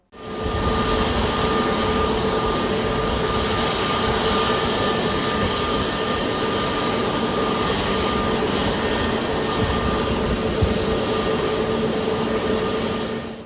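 A loud, steady roar of an Air India jet engine on a runway at Mumbai Airport holds continuously, with a sustained whine riding over the broadband rumble and no voices.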